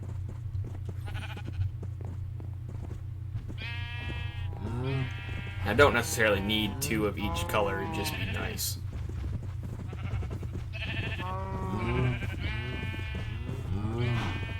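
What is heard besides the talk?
sheep bleating in the video game Minecraft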